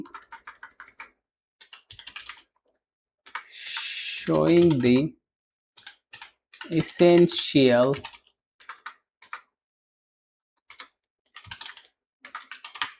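Someone types on a computer keyboard during a programming lesson on encapsulation and abstraction. Short bursts of light, quick key taps run between stretches of someone talking in Hindi.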